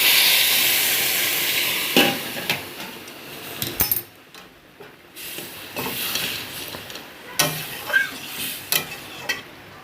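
Hot water goes into spices frying in a pan with a loud hiss and sizzle at first. The sizzle then dies down to quieter bubbling, broken by sharp scrapes and clinks of stirring.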